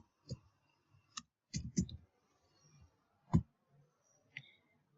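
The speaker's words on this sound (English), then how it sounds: "start just typing the data in" Scattered, irregular clicks of keys on a computer keyboard as data is typed in: a few isolated taps, then a quick cluster, then more sparse presses, close and fairly quiet with no talking.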